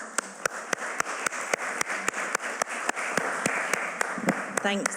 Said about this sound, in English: A warm round of applause for Judith Kirton-Darling